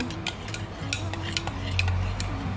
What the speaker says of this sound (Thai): โกโก้นะคะ คนก่อนนิดนึง